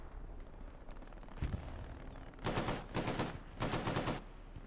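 A Bren machine gun fires from a bipod in a video game, sounding as three loud, rapid bursts in close succession over steady background game ambience, with no talking.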